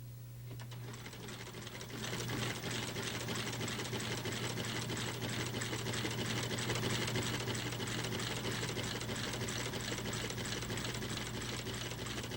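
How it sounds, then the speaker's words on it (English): A shoe-repair sewing machine stitches a sole onto a shoe in a 1981 shop, running in a steady, loud mechanical rattle with a constant hum throughout, no voices over it. "once that's done, we can sew the shoe"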